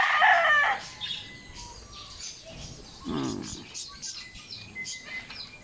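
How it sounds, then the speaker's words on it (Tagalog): A rooster lets out one loud, close crow at the start, followed by quieter bird chirps and people talking in the background. "Ito, mga manok."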